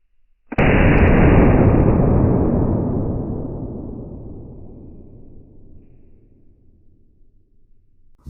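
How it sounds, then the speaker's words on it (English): A blank gun revolver with an open barrel fires a steel ball at cardboard: one sudden loud blast close by that holds for a moment, then decays slowly into a long rumbling tail. "What an explosion."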